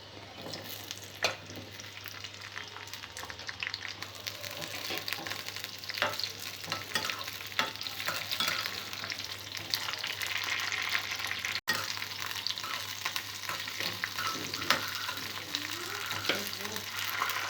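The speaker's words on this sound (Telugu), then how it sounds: "ఆవాలు మెంతులు వేసిన తర్వాత పచ్చిమిరపకాయలు వేసుకోవాలి." Green chillies fry in hot oil with fenugreek and mustard seeds in a home kitchen, giving a continuous crackling sizzle with occasional stirring scrapes and clinks, steady and close throughout.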